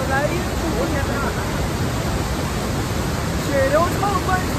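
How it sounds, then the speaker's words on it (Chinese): Rhine Falls roars as a broad, constant rush of churning white water close by, with a voice talking over the steady torrent. "背后这里的莱茵瀑布"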